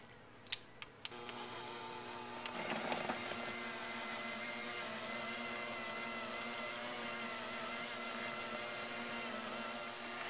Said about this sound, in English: we are going to use an electric mixer and mix the icing